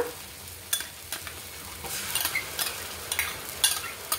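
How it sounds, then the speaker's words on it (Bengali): Onions lightly browning in a pan for a soybean curry give a soft, continuous sizzle, broken by irregular scraping strokes of a spoon stirring them. "পেঁয়াজগুলোকে হালকা ব্রাউন করব, বেশি ব্রাউন করার দরকার নাই।"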